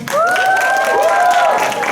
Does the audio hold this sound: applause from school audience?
yes